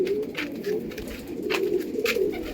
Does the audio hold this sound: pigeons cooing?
yes